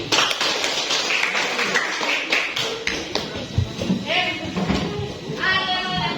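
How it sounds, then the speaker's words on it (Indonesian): A class of schoolchildren clapping their hands together in a classroom, a dense, continuous patter of many palms that holds steady, with young voices calling out over the applause. "Ayo ready. Tepuk tangan semua."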